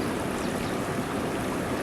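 Steady rushing water from a stream flowing down to a bay on New Zealand's southern coast forms a continuous broadband wash with no pauses or voices.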